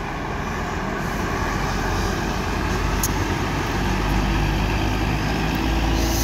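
A Murni Jaya airport bus pulls into the Purworejo bus terminal with a shuttle, a loud, steady, close engine rumble mixed with broad roadway noise throughout.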